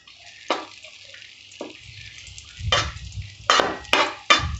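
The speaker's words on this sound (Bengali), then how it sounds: "লাচ্চাটা একটু ভেজে নিচ্ছি।" Lachha fries lightly in a pan, heard as several short crackling, scraping bursts at irregular intervals over a faint low background.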